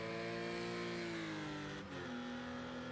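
GT4 race cars lapping Rouen Les Essarts in a racing video game, a steady layered engine drone with several cars' notes overlapping, loud and continuous, one pitch dropping briefly as if a car shifts or passes.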